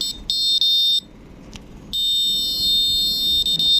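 A loud, steady high-pitched intruder alarm buzzer on an EMD locomotive control panel sounds continuously, cutting out briefly once near the middle before resuming and holding to the end.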